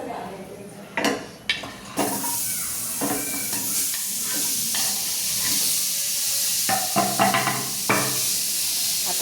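Chopped onion and tomato frying in a pan for a mixed vegetable dish, a steady sizzle starting loud with sharp clinks and scrapes of stirring, close by, with occasional faint talk.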